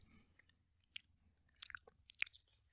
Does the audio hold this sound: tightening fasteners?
no